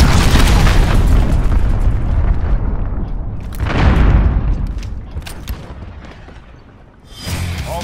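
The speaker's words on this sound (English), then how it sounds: "Allied cruise missile launched" A cruise missile strike in Call of Duty: Modern Warfare sets off loud, deep booms. Heavy blasts and rolling rumble swell and fade over several seconds, and a final thump follows near the end.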